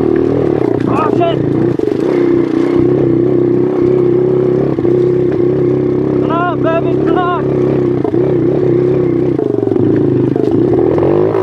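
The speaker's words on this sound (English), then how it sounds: "We're out here on that 110 Factory Racing Rockstar Energy pit bike." A 110 Factory Racing pit bike engine with an aftermarket exhaust drones steadily, its pitch rising and dipping with throttle, while a voice talks over it now and then.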